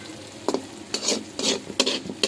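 Potatoes frying in a blackened wok, stirred with a utensil in a few scraping strokes over steady sizzling, up close and without talk.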